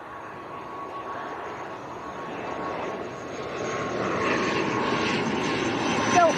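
Aer Lingus airliner at Leeds Bradford Airport, a building jet engine roar that swells steadily louder over several seconds, heard from a distance outdoors with no talk.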